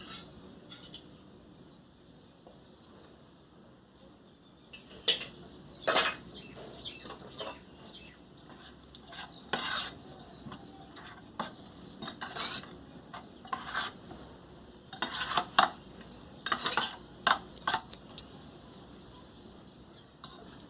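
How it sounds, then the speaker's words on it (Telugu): Curd stirred into turmeric, green chillies and coriander for a curd chutney: soft intermittent scraping and stirring strokes, growing more frequent, over a quiet background with faint bird chirps. "పెరుగు వేసి బాగా కలపాలండి."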